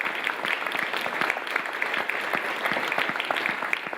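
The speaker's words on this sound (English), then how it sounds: "So just a big round of applause to all the different community partners and friends that made this possible." An audience at a startup pitch event claps steadily, a dense, even round of applause from many hands filling the room.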